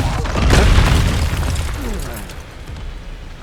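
Expulso blasting spell from Hogwarts Legacy: a loud booming burst swelling around half a second in, then a rumbling decay beneath game noise and chatter.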